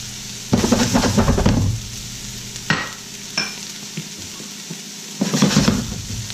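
Cajun spice smoked ham (tasso) is stirred into a hot sizzling pan with shrimp to follow, giving bursts of loud scraping and sizzling, a couple of sharp utensil clacks on the pan, and a quieter simmer in between.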